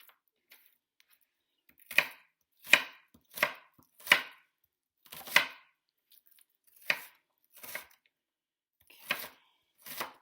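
A knife dicing an onion on a cutting board, about nine crisp, separate chops in an uneven rhythm with short pauses between them, close and clear against silence, no voices.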